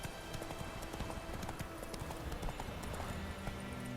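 Roach the horse galloping in The Witcher 3, with rapid rhythmic hoofbeats pounding steadily over a low rumble of in-game ambience.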